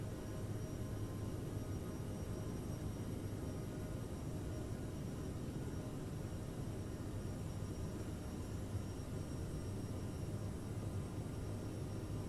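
A CRJ 900 jet's engines at takeoff thrust in Microsoft Flight Simulator 2020 give a steady, loud, broadband roar with a continuous hum, unbroken for the whole stretch.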